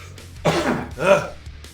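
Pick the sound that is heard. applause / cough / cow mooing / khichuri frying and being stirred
cough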